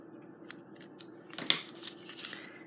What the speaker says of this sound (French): Je vais venir couper le bout excédent.